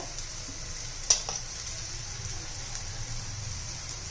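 Spices stirred into onion-garlic masala frying in a pan for keema, a faint steady sizzle with one sharp clink of a utensil and a few soft scrapes.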